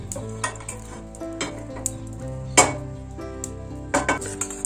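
Metal spatula scraping and tapping on a hot dosa tawa while ghee is spread, a faint sizzle underneath with irregular sharp clinks and one louder clatter midway.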